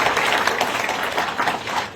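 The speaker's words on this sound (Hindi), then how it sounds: "हम तालियों से अभिवादन करेंगे।" A steady burst of audience applause welcoming a guru at a Vedic research gathering, many hands clapping at once, dense and fairly loud throughout, with no pause.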